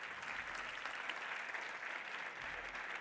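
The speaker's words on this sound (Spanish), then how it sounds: "pedimos también un fuerte aplauso para ella, para Iris Tió" Audience applause at a Spanish artistic swimming gala, a steady, full wash of clapping from a large crowd that holds evenly for three seconds with no voices.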